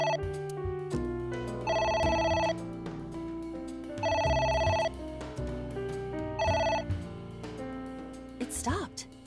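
A telephone rings repeatedly in the video game AI: The Somnium Files, bright electronic trilling bursts in a regular pattern over a background music bed, with a voice briefly heard near the end.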